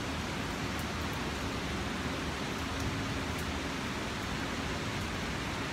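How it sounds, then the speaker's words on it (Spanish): Steady rain falls over Miami, a dense continuous hiss that stays even and fairly close throughout with no talking. "Está lloviendo ahora."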